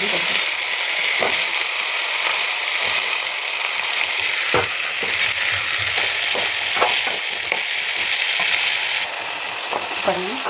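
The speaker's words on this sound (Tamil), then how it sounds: "பாருங்கள், காய் நல்லா எண்ணெயிலே இப்படி வெந்துடணும்." Drumstick and brinjal pieces fry in hot oil with a loud, constant sizzle, broken by scattered crackles and pops, with no voice over it.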